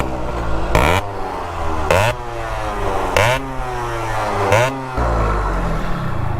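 A tuned Yamaha RX motorcycle engine idles with a rough, throbbing beat, then is revved hard in four sharp bursts that rise and fall back, loud and close, with no voices.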